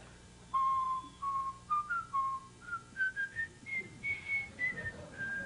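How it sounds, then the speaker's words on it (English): A man whistling on a late-night talk show, a clear, close melodic tune of short sustained notes rising and falling in a steady phrased rhythm, alone without talk. "Can we have a sample of your whistling?"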